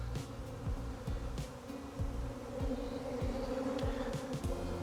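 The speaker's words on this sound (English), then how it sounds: "And all these flying bees are wondering where their colony's gone." Buckfast honey bees fly around the empty spot where their hive once stood, making a soft, continuous swarm buzz with individual bees droning past close by.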